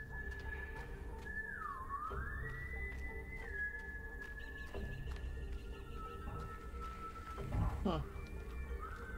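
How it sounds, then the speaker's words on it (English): A character in the video game Road 96 whistles off key: a wavering, sliding tune that dips and rises, played over a steady low game-ambience rumble. "Your whistling sucks, by the way."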